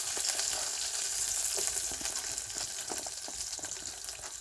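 Chopped onion fries in hot oil in a pan for noodles, a dense, continuous sizzle with crackling pops and faint stirring, close and steady throughout with no talking.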